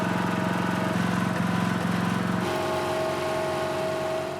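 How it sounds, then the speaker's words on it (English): A small generator driven by a four-stroke lawnmower engine runs steadily in a backyard enclosure, a close, loud, even mechanical drone with a pulsing low putter that shifts slightly in pitch partway through. "basically it's just a four-stroke lawnmower engine"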